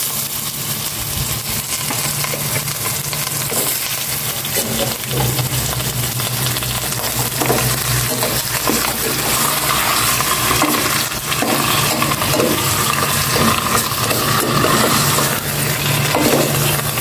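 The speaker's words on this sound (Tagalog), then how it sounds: "Yun, nagisa na itong maigi." Food sautéing in a pan gives a steady, loud sizzle with the scrape and clatter of a stirring utensil running throughout, close and continuous with no talking.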